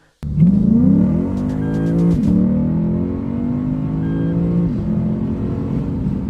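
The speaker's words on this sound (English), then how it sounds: "You have a 5-liter V8 engine" A Lexus F's 5-liter V8 engine revs hard, its deep roar rising and falling through several throttle blips, loud and close, with no talking.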